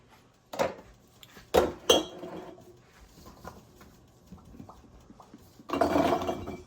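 Glass canning jars clink and clatter as glazed carrots in orange juice and brown sugar are spooned in, a few sharp close knocks with quieter scraping and rustling between them.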